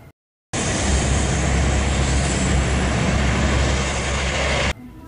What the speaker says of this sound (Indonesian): Ini namanya pesawat Hercules.